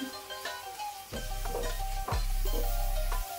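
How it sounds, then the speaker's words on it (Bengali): Potatoes frying in a pan seasoned with turmeric and salt, with steady sizzling that swells loudly after a couple of scraping stirs and runs on continuously, no voices. "এখন আমি আলুগুলো ভেজে নেব।"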